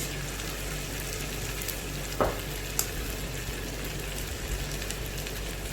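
Green chilies, mint and coriander leaves frying in a pan, a steady soft sizzle with a couple of faint stirring knocks, no voices.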